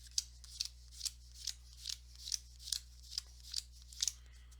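Basketball cards from a Hickory Huskers tabletop game are dealt out one at a time, giving about eleven crisp, evenly spaced snaps and slides over a low steady hum, close and quiet, with no talk.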